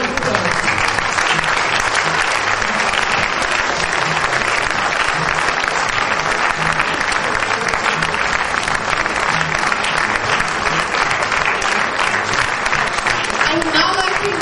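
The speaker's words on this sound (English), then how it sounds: "Can we please have a round of applause?" Sustained audience applause for the production team on stage after a school performance of the comedy play See How They Run, a full, even roar of clapping that holds steady for the whole fourteen seconds.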